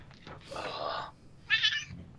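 A pet cat named Tortuga meows twice, a short drawn-out call followed by a higher, sharper one, close by with faint room noise and a person talking nearby.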